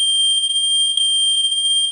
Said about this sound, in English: the photoelectric sounds the alarm